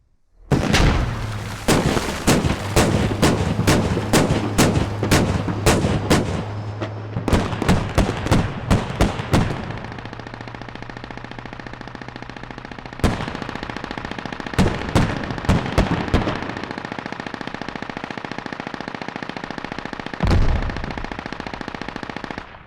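Automatic weapons fire in a Squad tournament match, loud rapid bursts of machine-gun shots in clusters with a steady engine drone beneath and scattered single shots later on.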